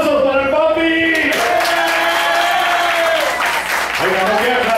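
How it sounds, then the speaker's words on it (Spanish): A crowd at a lively Spanish-language event applauds for the dad, steady clapping under loud music and a voice. "¡Aplausos para el papi!"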